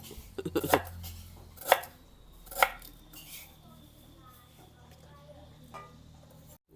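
A few sharp knife chops on a board, likely galangal being cut, spaced about a second apart, with kitchen clatter and a faint steady hum behind.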